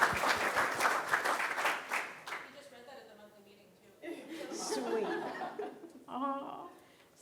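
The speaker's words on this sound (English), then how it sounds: "Can we clap for that?" Audience at a climate advocacy conference breaks into applause that lasts about two seconds, then fades into scattered chuckles and laughter mixed with talking.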